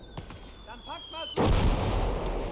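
After some faint chirping, a deep booming blast of cannon fire erupts and rumbles on, loud and close, in the video game Call to Arms - Gates of Hell.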